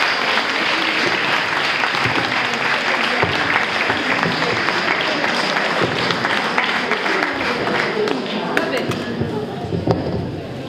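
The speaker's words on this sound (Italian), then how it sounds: "vi chiedo e vi prego ancora un applauso" A large audience at a book presentation by the author Dacia Maraini in the Salone Viviani applauds steadily and densely, close and loud, for the whole stretch, thinning slightly near the end.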